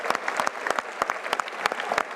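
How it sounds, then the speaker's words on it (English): An audience claps in a scattered, uneven patter, a smallish group applauding at moderate volume with no voices standing out. "Give yourself a round of applause."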